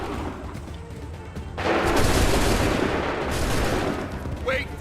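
Musket volleys in the video game Assassin's Creed III: a quiet stretch of shouted orders, then a loud, dense crash of massed musket fire that rolls on for several seconds before fading, with voices around it.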